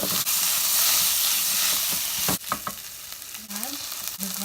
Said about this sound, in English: Now let's add the chopped tomatoes.